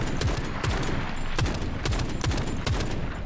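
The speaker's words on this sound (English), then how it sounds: "Trying to shoot him in the back." Rapid bursts of gunfire in Shatterline's PvE mode crack loud and close, sharp shots repeating in a quick, uneven rhythm.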